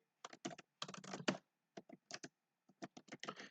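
Someone types in bursts on a computer keyboard, with quick clusters of crisp key clicks broken by short pauses, close and quiet with no talk.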